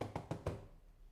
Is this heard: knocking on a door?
yes